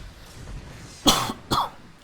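Two sharp coughs in quick succession from a commentator at a microphone during a StarCraft match cast, the first louder, the second slightly weaker, each short and close with nothing else but faint background hum.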